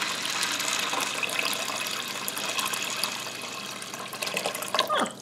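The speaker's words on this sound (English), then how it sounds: "I'm going to cover them by about 2 to 3 inches of water." Water pours into a pot of dried pinto beans being prepared for canning, a steady close gush and splash running for several seconds with a brief louder splashing burst near the end.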